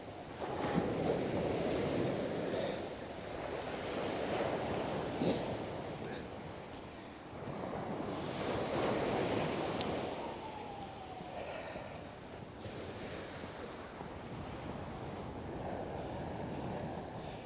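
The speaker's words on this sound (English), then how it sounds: "the wind has definitely changed direction" Wind gusts across a snowy Coney Island beach in Brooklyn in winter, a steady rushing roar that rises and falls in waves, buffeting the microphone up close, with surf blending into the background.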